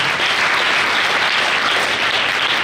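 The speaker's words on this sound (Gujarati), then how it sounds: "સૌ તાળીઓથી વધાવી લઈશું આપણે" Dense applause from an audience at a primary school farewell ceremony in Alina, many hands clapping steadily and loudly throughout, with no voices over it.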